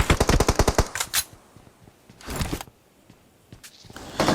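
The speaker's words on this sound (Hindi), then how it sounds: "हम लोग को लेफ्ट वाली पहाड़ी पे से भी फायर आ रही होती है" Automatic gunfire in the battle royale game BGMI rattles off in a rapid burst, then brief shots and distant bursts follow with short pauses between, loud and close, with no talk.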